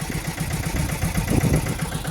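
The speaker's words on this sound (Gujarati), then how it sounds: "હવે અમારે કનુભાઈ સનેડો ટ્રેક્ટર આંકશે, કારણ કે આપણે તો બધા ટ્રેક્ટર આંકી લીધા છે." A Saneda mini tractor engine running in a groundnut field, a steady close chugging clatter that holds at an even level throughout the short stretch, with no talk.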